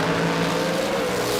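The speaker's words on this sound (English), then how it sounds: "Just spun the rear tyres just enough off the line there to make it nice and smooth." A Pontiac drag race car at a qualifying meet leaves the line with its rear tyres spinning slightly, a steady loud engine roar that holds throughout.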